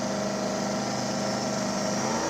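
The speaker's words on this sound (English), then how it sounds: "Brian Cunningham over here, small block Ford turbo Thunderbird" A small block Ford turbo Thunderbird drag car's engine runs with a steady, buzzing drone, constant and fairly close, with no voices over it.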